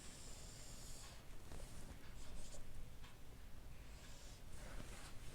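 Chalk or pen scratching steadily as values are written out during a maths lecture on numerical methods and Newton's interpolation, with continuous faint scraping strokes over a hissy, noisy room background and no talk.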